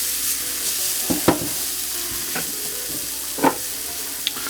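Pork chops sizzle steadily in a frying pan with dried thyme, broken by several sharp scraping clicks as a utensil moves them around. The sizzle is close and fairly loud, with no voices.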